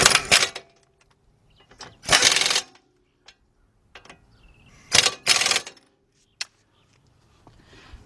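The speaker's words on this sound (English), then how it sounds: "tighten those two bolts up" Brake caliper bolts on a 2007 Honda Accord's front brakes are tightened with a ratchet, heard as several close, loud bursts of rapid ratcheting clicks separated by quiet gaps and small metallic taps.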